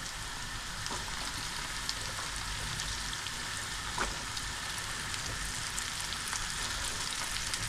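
Green beans sizzle and fry steadily in hot oil with turmeric, panch phoron and onion, a continuous crackling hiss with occasional stirring scrapes, close and moderately loud with no talking.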